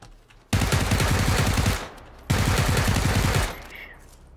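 PUBG gunfire rattles out in two long, loud automatic bursts with a short lull between them, close and dense, with no talk over it.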